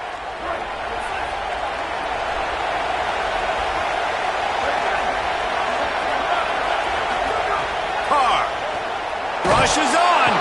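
A large football stadium crowd roars in a steady, loud wash of cheering throughout, swelling slightly near the end, with an announcer talking over it.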